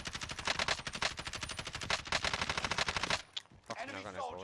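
Rapid automatic gunfire from a Kilo 141 rifle in Warzone on Rebirth Island, a dense, steady stream of shots lasting about three seconds before cutting off into quieter game sounds.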